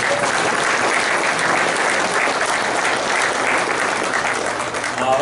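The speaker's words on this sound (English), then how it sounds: "Give Jay a big round of applause." Dense, loud, sustained applause from an audience at a college sports hall of fame induction ceremony in Illinois, a continuous wash of clapping that holds steady throughout.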